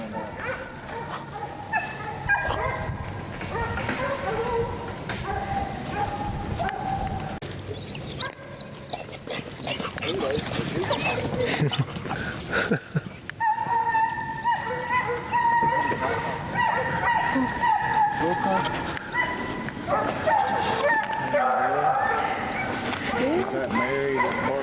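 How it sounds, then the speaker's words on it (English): Dogs bark and yip outdoors in the Florida Panhandle, irregular and mid-distance bursts with some whimpering, while people talk nearby. "Is that Mary that's barking at?"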